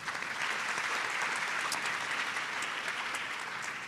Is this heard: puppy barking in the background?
no